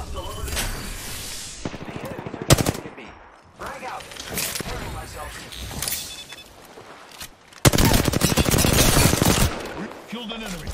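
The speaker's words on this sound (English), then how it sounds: "The enemies are shooting at me." Gunfire in an online shooter match comes in bursts of automatic fire and single loud shots, with a long heavy volley near the end, mixed with game sounds and voices talking between shots.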